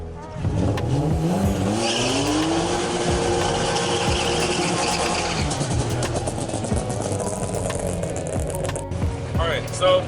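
A BMW E36 328ic revs hard with its tires spinning and squealing to build heat before a burnout, the engine loud and close with rising and falling revs throughout.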